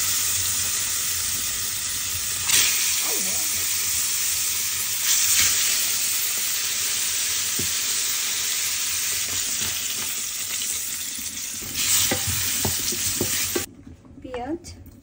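Air fish sizzles loudly and steadily in hot oil in a pan, a dense crackling hiss broken by occasional stirring scrapes, with the sizzle easing near the end.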